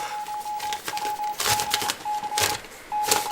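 A wartime telegraph machine receives a telegram: a steady high beeping tone keys on and off in short and long pulses, mixed with mechanical clacking and taps, fairly faint and close with no speech.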